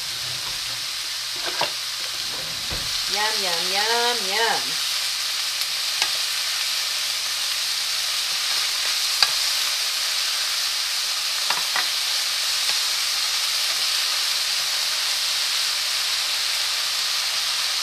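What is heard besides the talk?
mushrooms sautéing in a pan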